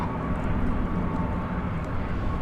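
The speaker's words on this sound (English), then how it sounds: "Waiting to see flight 1203 to Phoenix is an Airbus A321 Neo" Airbus A321neo jet engines roar steadily at an airport at night, a broad, continuous rumble of moderate loudness with no voices.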